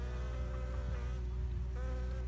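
A steady, close drone of worker honeybees fills a queen-rearing hive, with individual wingbeats swelling and fading over the continuous hum.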